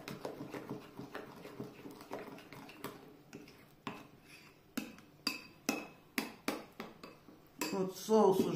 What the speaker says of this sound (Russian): Надо очень хорошо перемешать.